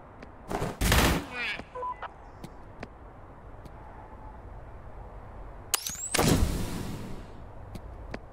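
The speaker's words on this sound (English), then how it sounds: "Oh, this one's burst fire." Burst-fire gun shooting in the Forgive Me Father video game: two short, loud volleys of rapid shots, the first near the start and the second a few seconds later, separated by quieter ambience with faint clicks.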